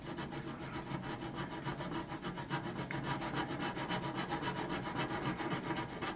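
A file rasps steadily back and forth across wood on a model ship, close up, in a continuous rhythmic scraping with no talking.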